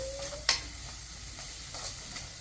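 Masala sizzling and frying in a pan before prawns go in, a steady soft hiss with a sharp spoon scrape or clack near the start and faint stirring sounds after.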